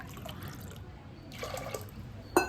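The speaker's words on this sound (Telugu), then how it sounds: "నేనైతే 3 గిలాసుల నీళ్ళు వేస్తున్నా" Water from a glass is poured into a pot of lentils for Ugadi cooking. Faint dripping and trickling continue throughout, swell into a brief pour midway, and end with a sharp splash.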